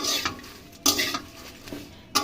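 Fried food tossed continuously in a wok, with loud metal scrapes and clanks of a spatula in repeated strokes over a low background sizzle, close and without voices.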